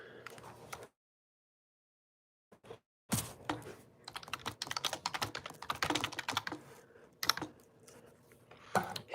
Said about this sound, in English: Hold on, let me check out my keyboard.